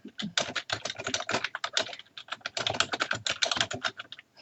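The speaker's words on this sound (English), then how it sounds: "your job is to simply type. Type what you see." Fast, continuous typing on a computer keyboard during an online typing test, a steady patter of crisp keystrokes up close with only a couple of short gaps.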